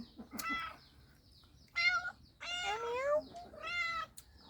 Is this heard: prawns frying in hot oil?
no